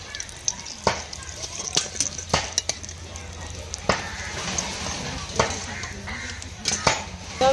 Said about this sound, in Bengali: চপটা ভেজে নিয়েছি, তুলে নেবো।